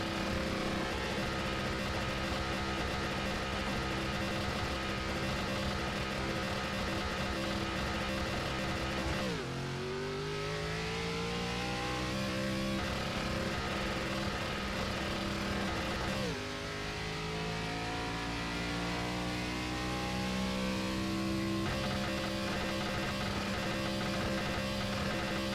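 Simulated ARCA race car engine in iRacing, a steady loud drone with two sweeping gear-shift drops as the revs fall and climb again, no voices.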